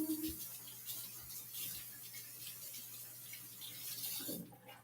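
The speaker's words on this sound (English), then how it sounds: "Get it wet in the sink with just water, and then we're going to wring it out" Water from a kitchen tap runs into a sink as a cleaning cloth is soaked, a faint, steady splashing hiss that carries on for several seconds with small bumps of handling.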